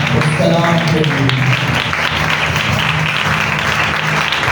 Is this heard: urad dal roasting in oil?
no